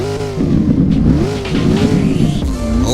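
An older Datsun car in a driving video game revs hard and continuously, its engine note rising and falling in loud, close sweeps with no voices over it.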